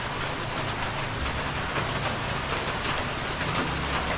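Steady rain falls outside during a storm, a dense, continuous hiss without breaks that holds at an even level for the whole stretch, with no voices over it.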